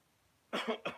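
Two quick, close coughs in a row after a moment of near silence.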